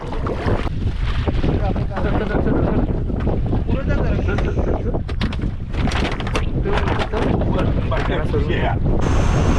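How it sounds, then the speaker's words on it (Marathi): A fishing boat runs out to sea in strong wind, its steady engine drone and hull noise mixed with loud, continuous wind buffeting throughout. "मित्र आता आपली बोट चालू झाले आणि चालले मासेमारी करायला"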